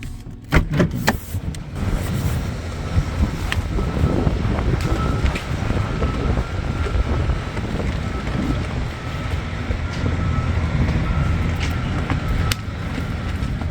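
Strong wind roars and buffets steadily throughout, a loud continuous rush with gusty surges and no voices.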